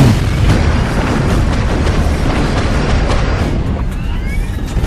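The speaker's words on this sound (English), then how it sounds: "There was a really big roar in the aircraft" A dramatized compressor stall in an aircraft jet engine, heard as a heavy, continuous low rumbling roar with booming, explosion-like weight that stays loud throughout.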